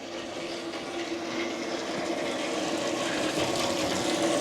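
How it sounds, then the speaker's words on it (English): A water pump runs steadily, pushing water through a hose to fill a swimming pool, with a constant rushing, humming wash that builds slightly louder and continues alone without pauses. "Let's turn this pump on. All right, it's filling up. I can hear it."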